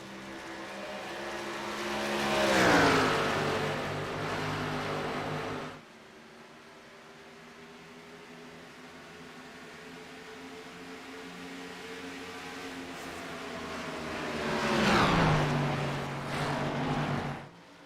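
Race cars on a track at a championship night, including a Supra running off pace and chased down by another car: two loud engine roars sweep past in turn, rising and fading, with a quieter distant engine drone between them and no talk.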